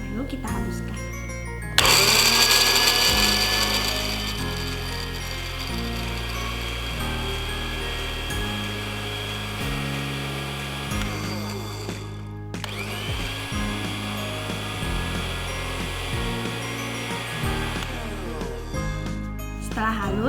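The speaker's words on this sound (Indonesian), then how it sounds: "kunyit yang sudah dipotong-potong kita masukkan ke dalam blender untuk kita haluskan." A blender grinding cut turmeric pieces whirs loudly and continuously, cutting out briefly partway through before starting up again, with music playing underneath.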